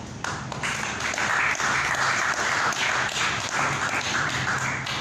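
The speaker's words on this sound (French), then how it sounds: "Applaudissons." Dense, sustained applause from a crowd, steady and loud throughout with no break.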